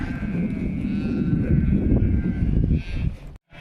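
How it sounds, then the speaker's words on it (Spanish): Sheep bleating repeatedly in a dense, continuous chorus, fairly close and loud, with overlapping calls from several animals. "Ahí vienen las ovejas detrás nuestra."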